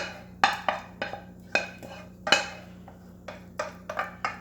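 A utensil scoops mac and cheese into a container, giving a string of light clinks and soft scrapes against the dish at an uneven pace, close and quiet over a low steady hum.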